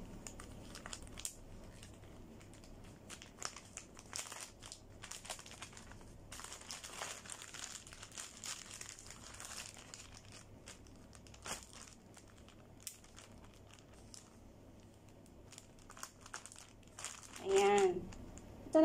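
Plastic bag crinkling as a saliva swab test sample is bagged during hotel quarantine, with broadband rustles through much of the clip and a louder burst of handling near the end; speech-like sounds may be mixed in.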